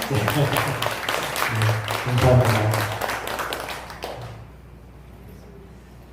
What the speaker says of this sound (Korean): 많이 오셨기 때문에 크게 박수하겠습니다.